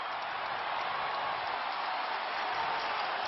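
A football stadium crowd at a 2009 Texas versus Texas A&M college game keeps up a continuous, loud roar of cheering that holds steady throughout.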